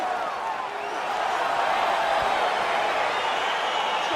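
Arena crowd in EA Sports UFC 4 roaring steadily as a fight gets underway, a dense sustained wash of cheering with no break for the whole stretch.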